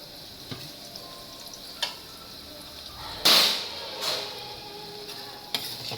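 Onion, chilli and curry leaves frying in a pan for dal tadka, a steady soft sizzle with a few sharper crackles and spoon clicks, heard alone and close.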